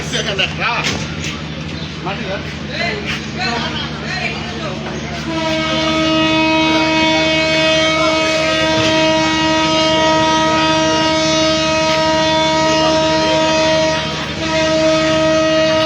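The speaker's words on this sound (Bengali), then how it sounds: "ট্রেনটি ছেড়ে যাচ্ছে, হুইসেল দিয়ে দিয়েছে।" A train pulls out of Pirganj railway station bound for Rajshahi, its loud horn sounding a long, steady blast from about five seconds on, over the rumble of the train and faint platform chatter early on.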